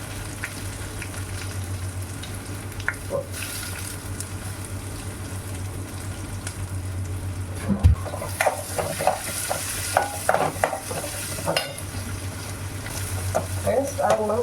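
Green chilies fry and are stirred in a pan for a Tamil fish curry. A low steady sizzle gives way to busier scraping and clacking stir strokes in the second half.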